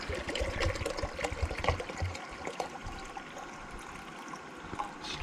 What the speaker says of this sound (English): Pouring some more fresh water.